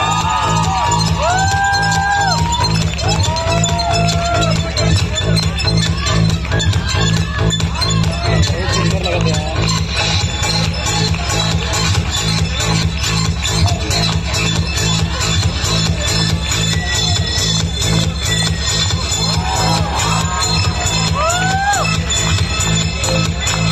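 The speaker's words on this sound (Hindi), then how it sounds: "जोरदार तालियां आरजू बानो के लिए प्लीज" At a prize presentation during a Banaras Hindu University medical sciences event, a large crowd cheers loudly and continuously, with whoops, shouts and rising whistles over a steady roar, voices mixed in.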